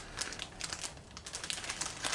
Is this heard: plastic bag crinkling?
yes